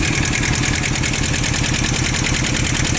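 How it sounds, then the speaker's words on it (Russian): A two-cylinder Iseki TS-1610 rear-wheel-drive Japanese mini tractor engine idles close by, a steady loud chugging pulse with even rhythmic beats throughout. "Двухцилиндровый трактор Исеки"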